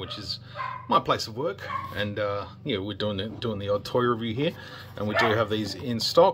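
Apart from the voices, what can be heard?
dog barking in the background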